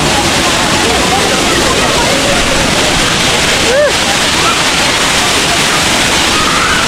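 Suruli Falls in Theni pours down in a dense, steady roar of falling water, loud and close throughout, with faint voices barely rising above the rush.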